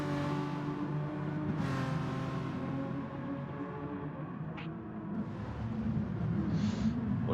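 Race cars in Gran Turismo at the Dragon Trail Seaside track, with engines revving and tyres working as cars reverse around and spin donuts, a continuous layered engine drone with rising revs and brief squeals.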